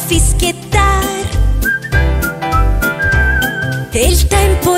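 Melodic whistling carries the tune in an Italian children's song, bright whistled phrases over a bouncy beat, bass and accompanying instruments, loud and continuous.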